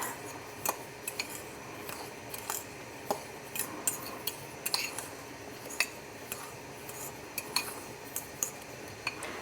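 A spoon stirring allulose into a raspberry jam mixture in a pot, giving repeated light clinks and scrapes against the pot at an uneven rhythm over a steady background hum.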